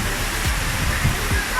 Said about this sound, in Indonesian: air terjun buatan Singapura